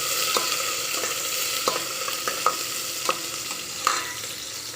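Onions fry in oil in a pan for a drumstick and tomato curry, giving a steady close hiss with occasional scrape clicks from stirring, and no voices.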